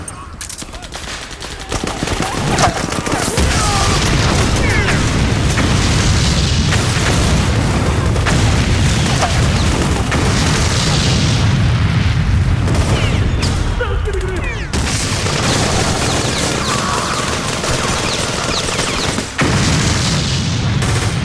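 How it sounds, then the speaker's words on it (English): Metal Gear Solid 4 battle with a thrown grenade going off amid PMC soldiers, a dense loud barrage of booms and rapid gunfire rumbling continuously, with someone talking underneath. "from this position, I can throw a grenade behind me"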